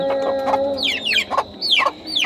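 A crested laying hen clucks in a short run of sharp, rising calls, close and fairly loud, with brief pauses between bursts.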